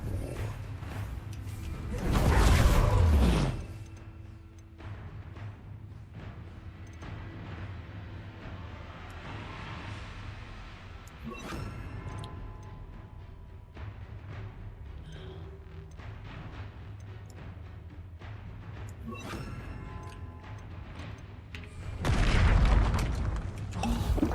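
Spell-casting combat in Hogwarts Legacy with the Confringo fire blast, booming explosions at the start and end framing a stretch of rumbling, crackling magical effects and game ambience.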